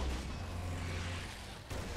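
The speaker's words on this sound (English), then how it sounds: "Rocket launchers on the high ground." Rocket launchers fire in the Warhammer 40K: Space Marine video game, making a faint, muffled, booming rumble with low-end blasts rolling through a short stretch.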